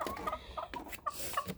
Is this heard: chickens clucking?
yes